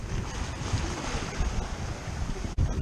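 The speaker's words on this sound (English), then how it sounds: "we've got swell behind us and we've got 10-15 knots of wind behind us" A Nova 28 sailboat runs solo through ocean swell with 10–15 knots of wind behind, steady rushing water and wind noise buffeting the microphone, with a brief dropout near the end.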